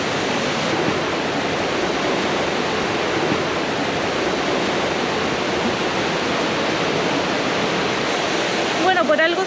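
Cascada Escondida, a waterfall near El Bolsón in Patagonia, roars as a steady, dense broadband rush throughout. Bird chirps rise briefly near the end.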